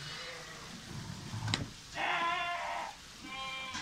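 Sheep bleat at evening feeding with the flock: a long, wavering bleat stands out over a low hum, then another follows, fairly close.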